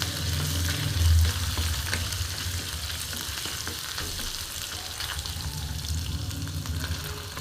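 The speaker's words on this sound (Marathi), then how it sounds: "आता हा कांदा चिरून घेतला आहे तो ह्याच्यामध्ये टाकून घेते" Chopped onion frying and sizzling in a pan for a home-style dry chicken sukka, a steady close hiss with occasional stirring, no talk.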